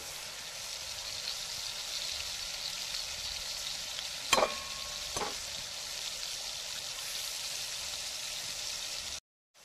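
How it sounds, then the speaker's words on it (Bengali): Whole eggs fry with tomatoes in hot oil in a pan for egg biryani, making an even, hissing sizzle with a couple of sharp clanks from a utensil midway, then an abrupt cutoff at the end. "একে একে ডিমগুলো সব চারেটা টমেটোর সঙ্গে ভেজে নেব।"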